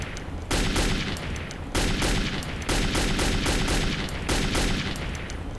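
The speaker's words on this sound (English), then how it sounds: "Come on, stand still while I shoot you." Gunfire in the first-person shooter Metro 2033, dense rapid bursts of automatic shots in several long runs with brief gaps, loud and close, no talking.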